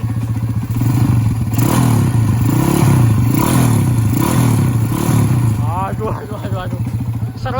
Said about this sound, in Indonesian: Mesinnya loh, bisa kalian dengarkan sendiri guys.